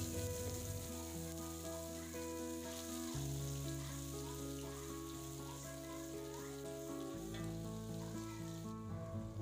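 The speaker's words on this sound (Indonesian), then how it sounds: "Setelah itu panaskan minyak dan masukkan bumbu yang sudah di blender" Blended spice paste for Padang-style crab sauce fries in hot oil, a steady soft sizzle with a rain-like crackle beneath prominent background music.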